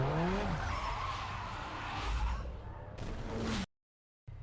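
Ford Focus 2.0L I4 launching off the line in a Need For Speed Underground 2 drag race, with a loud revving engine and tire squeal filling most of the run, then a sudden cut to silence before the sound briefly resumes.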